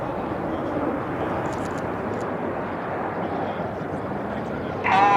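An aerobatic display jet trailing white smoke rolls past overhead, a steady distant roar that swells louder at the very end, heard over an open outdoor crowd setting.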